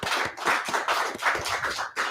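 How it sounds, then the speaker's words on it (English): Members of a religious group clap together in a quick, rhythmic burst of hand claps, loud and close, with no talk over them. "Clap it up for the class."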